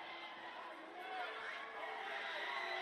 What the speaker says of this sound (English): the crowd are getting a bit annoyed and frustrated